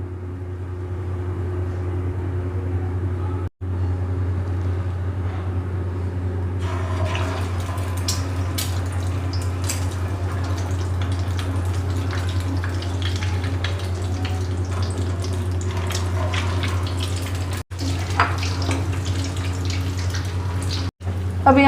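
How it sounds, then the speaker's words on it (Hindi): Egg-dipped potato tikkis frying in a pan, a continuous close crackling sizzle over a steady low hum that grows busier and more spattering partway through and carries on alone without voices. "अभी हम इन्हें अंडे में डिप करके फ्राई कर लेते हैं।"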